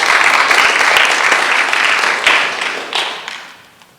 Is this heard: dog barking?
no